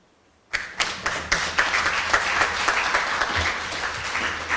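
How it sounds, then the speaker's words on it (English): Applause and clapping from an audience at a summer tech camp closing ceremony for about 150 students, bursting in suddenly after silence and holding steady as a loud, dense crowd sound. "you are allowed to clap for them"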